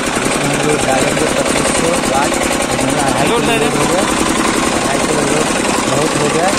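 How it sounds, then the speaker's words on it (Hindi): An old generator engine, with a faulty engine and a dynamo problem, runs loud and constant after being started, giving a steady rattling, vibrating drone while someone talks over it. "चलते हैं इंजन चालू कर चुके हैं"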